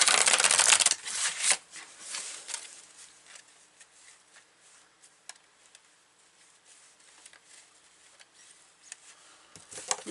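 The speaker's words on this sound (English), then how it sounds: "All right, so we're going to pull some beautiful cards here." Tarot cards are shuffled close to the microphone, starting with a loud riffle and then continuing as soft, irregular flicks and taps of cards for about ten seconds, with no voice.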